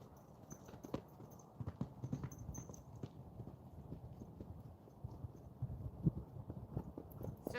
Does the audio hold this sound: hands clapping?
no